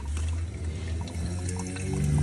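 Water runs into a trough or bucket on a farm, a soft continuous pouring hiss over a low background hum, close by and fairly quiet.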